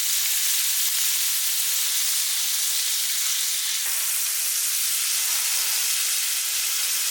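Shrimp sizzle loudly in a pan with sausage and Cajun seasoning, a dense, steady frying hiss that holds throughout with no voices.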